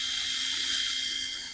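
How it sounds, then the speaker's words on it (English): A drill bit cleans up the end of metal conduit with a steady, bright high-pitched whirring grind that holds evenly for about a second and a half before trailing off. "I've got one of these drill bits to clean up the conduit around the outside"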